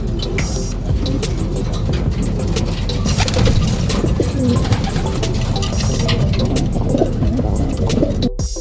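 A racing pigeon named Blackjack, a white flight, coos in its loft after returning from a race, with soft repeated cooing under dense, loud background noise from other birds.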